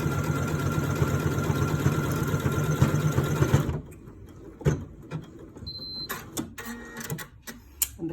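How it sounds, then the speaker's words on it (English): Janome Atelier 3 sewing machine running an automatic buttonhole, a loud steady mechanical stitching hum for about four seconds that stops abruptly, followed by scattered clicks and small taps. "it's an automatic buttonhole, and it likes to do the whole thing"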